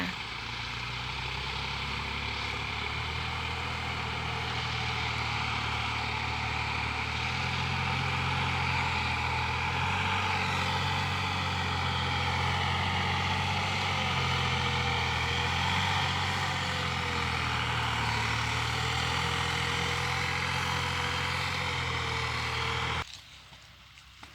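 New Holland TT4.65 and John Deere 5065E tractors plow a sugarcane and cassava field with seven-disc plows, their diesel engines droning loud and continuous close by, with a steady rumble that cuts off near the end.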